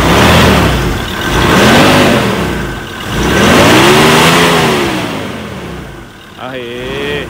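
Ford Ranger pickup with the 3.2-litre, 200-horsepower engine revving up and down in three long swells, loud and close, with a brief burst of talk near the end.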